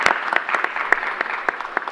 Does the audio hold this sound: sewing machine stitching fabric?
no